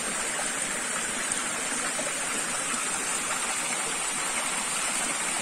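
Water runs steadily from a pipe at a spring in the bush, a close, even rushing hiss that stays constant and alone without speech.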